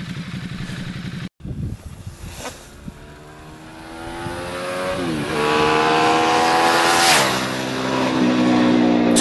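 A Ducati Multistrada 1200S motorcycle ridden off-road, its engine note climbing steadily through rising revs and gear changes, loud and close, after a brief cut near the start.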